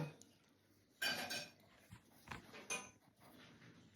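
Dishes clink and clatter as they are washed, irregular knocks of plates and cutlery at moderate distance, fairly quiet.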